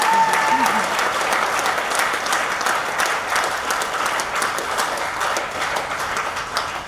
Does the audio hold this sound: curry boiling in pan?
no